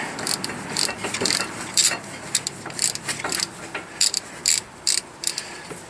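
A socket wrench with a 17mm socket ratchets loose the caliper bracket bolts on a 1999 Toyota Sienna, giving close, sharp bursts of clicking in an uneven stop-start rhythm.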